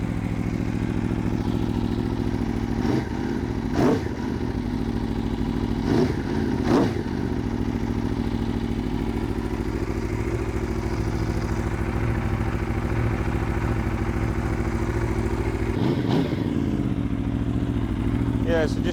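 Right after a cold start, an Aprilia RSV4 1100 Factory motorcycle idles loudly and close by, with several sharp throttle blips cutting through the steady engine rumble.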